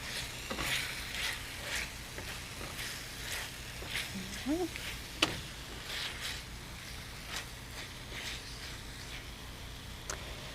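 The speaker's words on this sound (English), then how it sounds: "Just stir it around. We're stir frying." Soft sizzling and scraping of cabbage stir-frying in a pan, with scattered clicks and taps of a utensil stirring over steady background noise.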